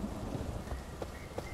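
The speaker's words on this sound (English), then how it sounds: "I think that was just the thunder." Rain and thunder in the horror game Slendytubbies: The Devil Among Us, heard as a faint steady wash of rainfall with a low rumbling undertone and a few soft drop-like taps.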